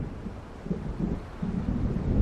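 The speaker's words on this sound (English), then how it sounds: "It seems there's a storm coming." Low, rolling thunder rumbles with steady wind from an approaching storm in the video game Alan Wake, a continuous dark roar that swells gradually and grows louder toward the end.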